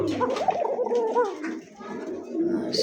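Pigeons coo close by in a loft, soft repeated throaty calls over a low background, with a voice speaking over them.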